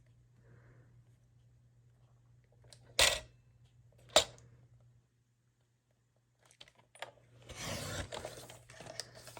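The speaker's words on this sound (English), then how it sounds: "Diagonally, we're going to cut that in the paper trimmer like this." A paper trimmer slices diagonally through pattern paper: two sharp clicks, a pause, then a brief rasping slide of the blade across the sheet, close and fairly quiet.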